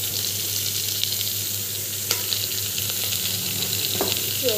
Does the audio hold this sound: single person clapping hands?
no